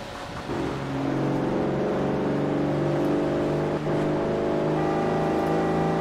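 A car engine in the racing game Forza Horizon 4, with a faulty gearbox, drones loud and close in a sustained rev, its pitch holding fairly level with a brief dip midway, and no voices.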